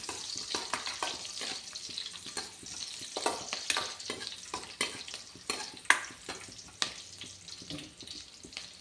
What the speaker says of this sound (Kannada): ಚೆನ್ನಾಗಿ ಫ್ರೈ ಮಾಡಿಕೊಂಡು ಸ್ಲೋ ಫ್ಲೇಮಲ್ಲಿ ಇಟ್ಕೊಳ್ಳಿ.